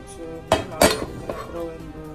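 Chopped onions, green onions and garlic drop into a skillet of avocado oil with a few clanking knocks and clinks of pan and utensil, two louder impacts close together, then a softer one.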